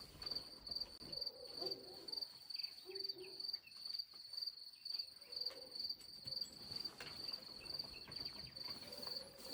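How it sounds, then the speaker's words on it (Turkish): Crickets chirp in steady, rapid pulses throughout, a continuous high trilling with faint background rustle and no voices. "Cırcır böcekleri."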